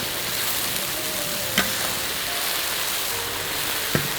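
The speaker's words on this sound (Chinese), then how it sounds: "鱼给它下锅，这个火有点不够大，给它翻一面看一下吧" Pieces of a huge swordfish frying in plenty of oil in a pan over a modest flame, a constant even sizzle with two brief sharp clicks from turning or utensils.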